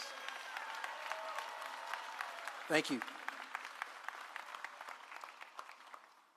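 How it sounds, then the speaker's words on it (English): Audience applause at a Birmingham mayoral swearing-in ceremony, a steady moderate patter of many hands through the clip, with a voice speaking briefly partway in. "Please give them a round of applause"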